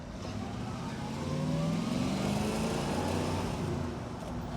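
A 1962 Chevrolet Corvette convertible with the 327 cubic-inch, 300-horsepower V8 pulls steadily while driving on a winding road, its engine drone rising and falling in pitch as it accelerates, loud and continuous from inside the car.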